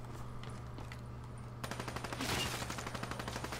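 Rapid automatic gunfire from a weapon in Black Ops 3 Zombies breaks out after a steady low hum and continues in a fast, even rattle of shots, loud and close, with no talking.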